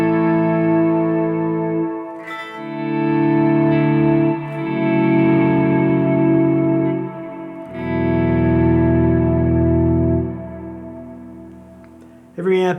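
Electric guitar notes swell in slowly from silence as the guitar's volume knob is rolled up, sustaining smoothly with no pick attack, one after another, with a soft echoing effect behind them.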